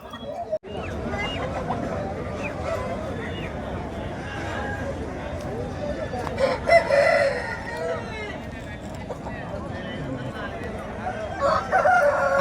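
Roosters crow and chickens cluck at a busy village poultry market before a festival, with several birds calling over steady crowd babble and nearby voices.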